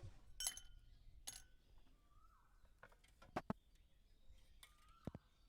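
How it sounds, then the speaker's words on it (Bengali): Several ice cubes are dropped into two glasses, making faint, sharp, scattered clinks and taps in an otherwise quiet kitchen. "গ্লাসের মধ্যে দিয়ে দিলাম দু চার টুকরো করে বরফ"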